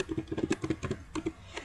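Quick bursts of keystrokes on a computer keyboard as numbers are entered into spreadsheet cells, a dozen or so close, crisp clicks in uneven clusters with short pauses between them. Nobody speaks.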